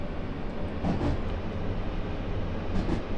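JR East Train Simulator game train running near Saitama-Shintoshin station: a steady, close, continuous rail rumble with low drone and faint rolling texture, no voices.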